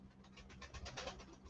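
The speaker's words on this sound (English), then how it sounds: "the flapping you hear is our pigeons" Pigeons flap their wings in a faint, rapid, rhythmic flutter of soft whooshing beats lasting over a second.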